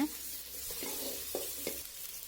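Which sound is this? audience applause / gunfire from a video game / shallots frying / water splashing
shallots frying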